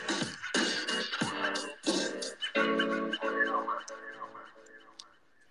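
A short podcast jingle plays as a few quick bright bursts, then a longer sustained melodic stretch that fades out, moderately loud and heard alone without talk.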